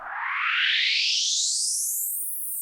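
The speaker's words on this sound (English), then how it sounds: "Now I have this envelope modulating the cutoff as well, and that sounds like this." Airy synthesizer tone whose filter cutoff is swept by an envelope, producing a single breathy whoosh that rises steadily in brightness over about two and a half seconds, heard alone.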